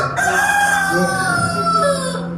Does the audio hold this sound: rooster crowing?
yes